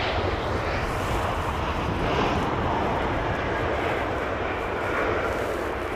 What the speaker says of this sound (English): More flap, probably a little bit more flap coming in now as well. And on the 380 you hear, it's great noise